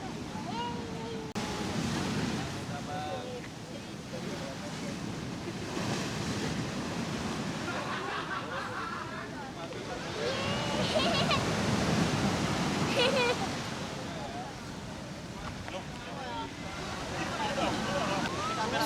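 Ocean waves rolling in at high tide on a clear-water, white-sand beach in Bali, a steady broad wash of surf with wind noise, swelling louder midway, with a voice talking over it.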